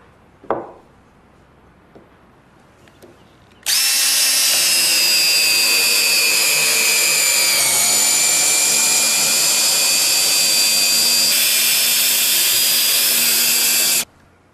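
Power drill driving a Spax screw into wood, a small tap first, then a loud high whine running steadily for about ten seconds with a slight dip as the screw seats, ending abruptly.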